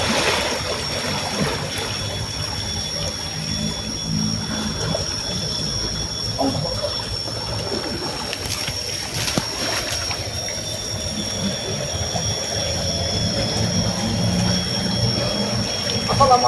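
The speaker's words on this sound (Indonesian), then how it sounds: "Di sini ada pertemuan sungai." Flowing stream water at a river confluence rushes in a steady, continuous wash, loud and close throughout.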